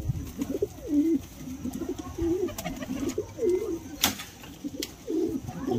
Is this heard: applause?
no